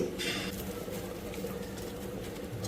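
Rice for chicken dum biryani boils in a pot with a steady bubbling, hissing wash, and a brief brighter splash near the start.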